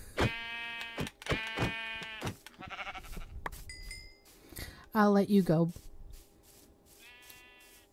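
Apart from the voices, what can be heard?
sheep bleating in Minecraft, video game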